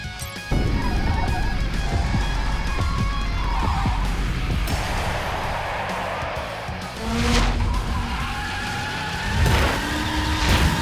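Car drifting in The Crew Wild Run beta, a continuous engine roar with tire squeal swells and skidding that surge and fade over about eleven seconds, loud and close, with no one speaking.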